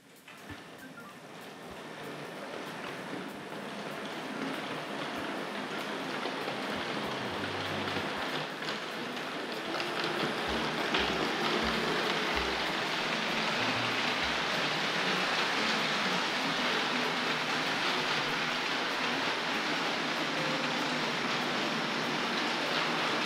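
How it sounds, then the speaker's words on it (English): A Hornby R.842 LMS Class 5 model steam locomotive in red livery runs along the track, giving a steady, rising whirring hiss from its motor, with a few faint low clicks as it crosses the points. "So we'll just give that a little power and see if she'll pull those out of the siding through the points."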